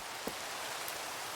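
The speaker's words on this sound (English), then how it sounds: "Raining." Steady rain falls in Minecraft, a soft even hiss with a faint tap or two, with no voices.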